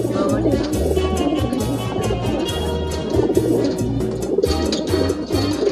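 Pigeons coo in repeated low, rounded phrases close by, with faint background murmur and rustling throughout.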